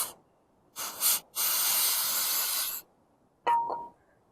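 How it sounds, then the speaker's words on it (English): Carpet cleaner sprays from an aerosol can onto an old spark plug on a 1983 Shovelhead motorcycle, several close hissing bursts: two short puffs, a longer steady spray, then a final brief squirt. "Oh, it's carpet cleaner here, clean it all off."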